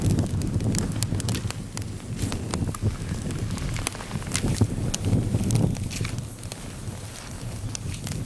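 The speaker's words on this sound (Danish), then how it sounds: "Og det brænder vældig godt med den lille vind her." Firewood crackling and burning in an outdoor campfire on a picnic at Kvitingen, stirred by a light breeze, with a steady broadband rush and frequent sharp pops and snaps running throughout, close and fairly loud.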